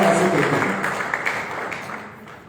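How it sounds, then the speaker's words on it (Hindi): A crowd at a live third-anniversary celebration in Bangkok gives sustained, dense applause that stays steady and fades slightly, with a voice faintly underneath. "जोरदार तालियां होनी चाहिए सुशील के लिए"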